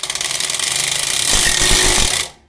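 A power tool drives 13mm bolts into the brake drum of a Toyota Corolla, a loud close rattling whir with rapid pulsing impacts that builds steadily and then stops abruptly at the end.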